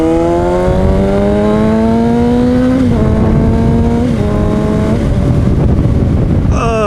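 A Honda CBR600 sport bike engine revs up steadily in rising pitch, drops briefly, then climbs again through several rises, loud and close with no talking over it.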